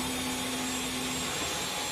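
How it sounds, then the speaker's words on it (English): A Dyson V12 Detect cordless stick vacuum cleaner runs steadily on its lowest eco setting, a loud continuous whirring motor drone with a high whine, close by and alone. "Eco is like the lowest setting, and I feel like, yeah, it's a vacuum, kind of loud"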